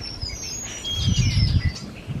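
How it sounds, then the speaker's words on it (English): A flock of grackles calling in a spring garden, harsh squawks and chirps overlapping near and far over about two seconds, with a low rumble of background noise beneath. "We got a bunch of grackles, or whatever you call those old birds that make awful noises."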